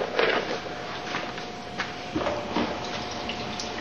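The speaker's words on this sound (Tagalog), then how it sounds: "Yun yung gripo na kasama dun sa" A kitchen sink faucet lets water run in a quiet, steady trickle, with faint splashes and clinks heard close by.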